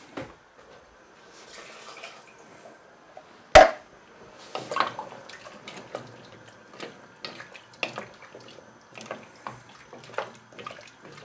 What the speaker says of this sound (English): And I now need about 200 millilitres of water.